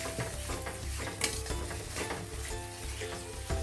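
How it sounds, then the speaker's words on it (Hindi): Malvani masala being stirred and fried in a pan, a dense steady sizzle with scraping of a spatula and small metallic knocks, close and continuous with no voices. "अभी चला देते हैं, अच्छी तरह भूनती है मसाला को।"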